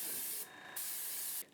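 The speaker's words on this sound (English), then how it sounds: "I like to use my airbrush whenever I can" Airbrush spraying paint, two close bursts of steady airy hiss split by a short pause, then a brief drop at the end, with no talking.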